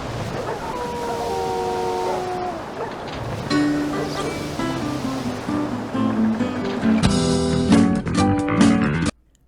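Storm waves at sea in a dog island game, a rushing surf-like wash under a howling tone, then a denser, louder tonal burst that cuts off abruptly near the end.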